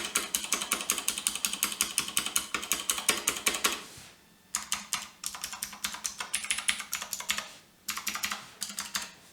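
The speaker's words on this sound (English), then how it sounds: "Spacebar sounds pretty decent for MX Blues with, you know, no modifications." Rapid clicky typing on an Ajazz K620T mechanical keyboard with MX Blue switches, close and crisp, in quick bursts with two short pauses between runs.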